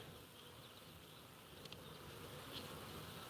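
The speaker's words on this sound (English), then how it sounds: "I see good activity, good numbers of bees" Honey bees buzz around a wild hive on a hot, still day, a faint, continuous hum with a few individual bees whizzing closer now and then.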